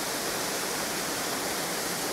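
Waterfall swollen after days of heavy rain, a steady broad roar of rushing, crashing water, constant and enveloping with no pauses or voices.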